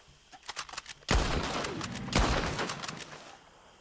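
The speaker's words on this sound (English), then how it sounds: "I got bullets, so I'm just gonna shoot them." Rapid gunfire in Red Dead Redemption 2 in gator country, a few lighter shots followed by two loud, close blasts with echoing bursts and ringing tails.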